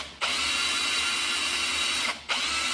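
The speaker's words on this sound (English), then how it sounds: "I think that has to do with the speed of my drill." An electric drill spins a priming tool in the oiling system of a 351 Cleveland engine, giving a steady high whine that cuts out briefly near the end and then starts again at close range.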